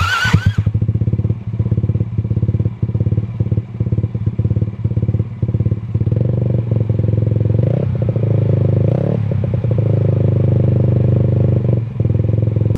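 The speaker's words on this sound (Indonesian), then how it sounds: "untuk yang penasaran dengan suara knalpotnya kamu dengerin di sini ya" Modified Yamaha NMAX scooter with a Kawahara aftermarket exhaust idling with a loud, deep rumbling burble close up, punctuated by repeated throttle blips and revs.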